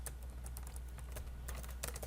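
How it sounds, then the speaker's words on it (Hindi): Rapid typing on a computer keyboard while entering Java code, with steady clusters of close key clicks over a low electrical hum and no talking. "अभी मैं जल्दी टाइपिंग कर रहा हूँ"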